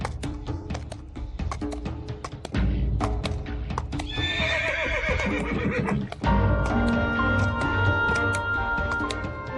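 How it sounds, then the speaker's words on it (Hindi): A horse trots with steady clip-clop hoofbeats, then lets out a loud, close whinny midway, followed by more hooves and music-like tones; no speech. "घोड़ा चलाओगे?"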